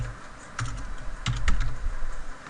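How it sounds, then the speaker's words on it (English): Keys clatter on a computer keyboard as a company name is entered, a short quick run of close, crisp taps with a few louder strokes, alone without any voice. "you just start typing a company name"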